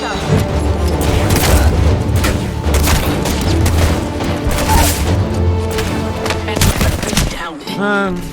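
Rapid gunfire and booming explosions in the battle royale video game Apex Legends, dense loud bursts of shots and blasts that run almost continuously and end with a short electronic whine, with a voice talking underneath.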